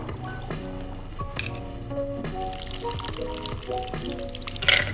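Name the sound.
drink poured over block ice in a heavy glass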